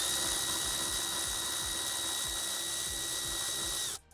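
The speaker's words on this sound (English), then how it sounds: "let's go ahead and take these bolts off." A power tool whirs steadily while nuts come off the ECU bracket of a MK4 Toyota Supra, with a constant high whine and faint ratcheting clicks underneath, then a quick cutoff at the end.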